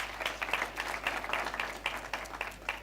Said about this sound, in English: A big round of applause to our participants.